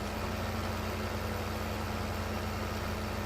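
A tractor engine in the Farming Simulator 15 video game drones steadily, a constant low idle-like hum with no voices over it.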